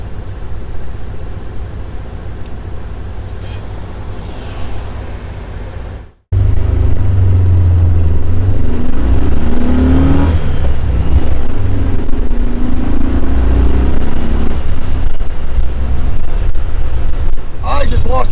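A 1979 VW Super Beetle runs along the road with a loud, steady engine drone and heavy road and wind rumble, broken by a brief dropout, then a fuller roar, while someone talks over it.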